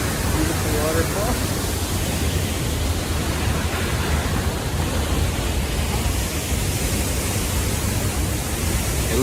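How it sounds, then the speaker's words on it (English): Steady broadband roar of a waterfall fills the scene continuously, loud and close, with no distinct pauses or other sounds standing out. "Beautiful waterfall."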